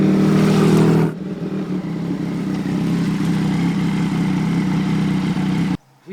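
A motorcycle engine on a mini race track runs loud and close with a strong low hum, falling back after a sharp opening burst to a steady drone before cutting off abruptly near the end.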